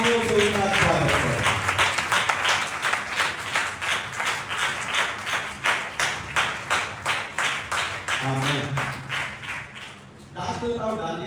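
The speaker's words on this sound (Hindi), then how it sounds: "हम जोरदार तालियों से उनका स्वागत करें" A church congregation clapping in welcome during a worship service: rhythmic, evenly spaced claps in unison that fade out, with a voice speaking at the start and again near the end.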